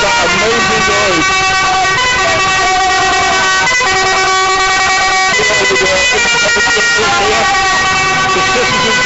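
A loud musical horn on the front of a tractor at a farmers' protest, sounding a sustained multi-note tune throughout, with crowd noise and voices underneath.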